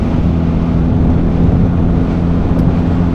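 A Honda CBR1000RR motorcycle engine drones steadily while riding, a loud, close, continuous low mechanical hum with wind rush, with no clear gear changes.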